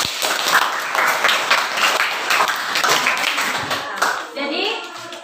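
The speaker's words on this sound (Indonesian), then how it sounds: "Coba tepuk tangan untuk diri kita semua." A classroom group claps for themselves during a teacher's performance-test lesson, with lively clapping mixed with children's and adults' voices talking over it throughout.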